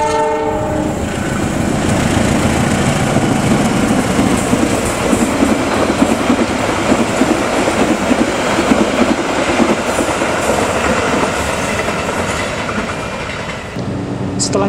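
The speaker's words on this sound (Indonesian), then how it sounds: "1 unit loko dilepas, kemudian dikirim berjalan sendirian, disusul rangkaian dengan 2 lokomotif." A loud diesel locomotive, a new Indonesian unit running alone on test, rumbles past on the rails with a steady engine drone and rhythmic wheel clatter, and a horn-like tone at the start.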